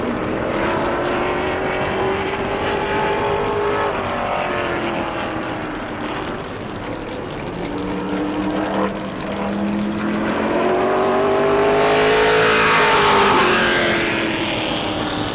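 A Pro Late Model race car on a qualifying lap at New Smyrna, its loud engine droning continuously with rising and falling pitch as it works the back stretch, swelling near the end as it passes close.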